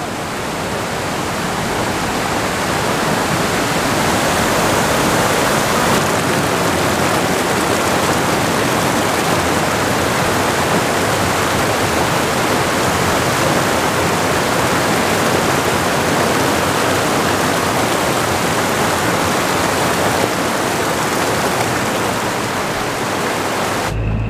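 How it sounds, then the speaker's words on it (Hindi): A mountain waterfall near Lake Lulusar in the Naran area roars as a loud, steady, broadband wash of falling water, constant throughout with no voices. "माशाल्लाह, बहुत ही खूबसूरत झरना है।"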